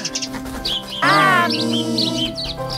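A baby bird in an animated children's story chirps in quick high bursts, then gives a longer wavering call in the middle, close and fairly loud.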